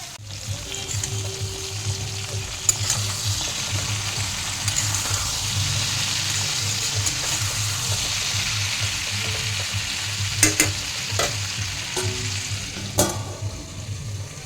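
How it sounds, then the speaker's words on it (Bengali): Cut pointed gourd (potol) frying in oil with turmeric and salt, a steady broad sizzle holding for the whole stretch, close and fairly loud, with a few sharp clicks of a utensil against the pan and no talking. "পটলটা এখন তেলের মধ্যে ফ্রাই করে নেব।"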